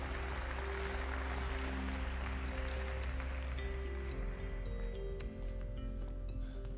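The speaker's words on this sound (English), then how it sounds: "Warm round of applause, please." Audience applause at a Samsung Galaxy Note II launch event in South Africa, a steady wash of many hands clapping under a low hum, continuing at even strength for about seven seconds.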